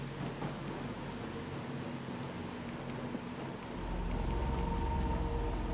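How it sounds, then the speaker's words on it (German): Steady rain in the video game Little Nightmares 2 pours as a dense, even hiss that swells louder and heavier partway through, with no voices over it. "Wieder Regen."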